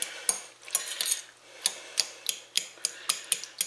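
Canned squash mashed in a bowl, with repeated sharp clinks and scrapes of a utensil against the bowl, close and fairly loud, in an irregular rhythm with no talking.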